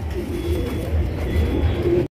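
A pigeon coos in low, soft, repeated throaty calls, close by, over a steady background hum.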